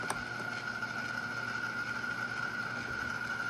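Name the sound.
Opal ice maker pump pumping and filling with water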